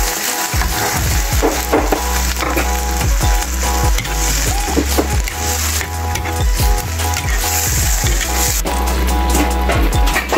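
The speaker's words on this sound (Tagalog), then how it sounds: "At lagyan natin ng konting sabaw ng pinaglagaan ng langka." Jackfruit boiling broth goes into lechon in a hot pan for lechon paksiw, a loud continuous sizzle mixed with clattering stirring and scraping close by.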